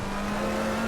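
A McLaren race car in a racing game accelerates hard out of a slow corner at Monza. The engine drone is loud and steady, with a sustained tonal whine.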